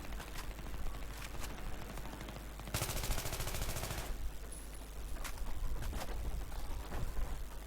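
Rapid bursts of automatic gunfire and scattered single shots in a multiplayer shooter game match, faint and distant at first, then a loud sustained burst followed by sporadic shots.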